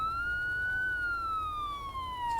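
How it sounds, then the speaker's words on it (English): A single siren wails outside, a clear steady tone slowly rising and falling in pitch over a low background rumble, fairly distant and heard alone without talk. "Sirens are going off out there."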